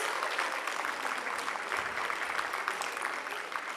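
An audience applauds an ensemble at a live concert, a dense, steady wash of clapping that holds at an even level from start to finish.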